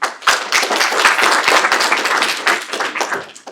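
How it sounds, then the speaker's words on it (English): Audience applause at a business speaker-series event on eCommerce in Southeast Asia, as speakers are invited to the front; dense, steady clapping from a room of people, loud and close, fading slightly toward the end. "let's give them a round of applause."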